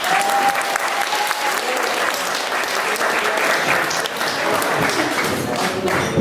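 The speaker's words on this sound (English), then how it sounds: "I would like a round of applause" Wedding guests at the reception speeches breaking into sustained applause, a loud, even roar of many hands clapping with a few thumps and scattered voices.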